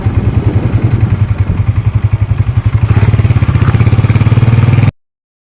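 A nearby tractor engine chugs in a rapid, even rhythm that sounds much like a motorcycle. The loud pulsing speeds up and steadies partway through, then cuts off abruptly.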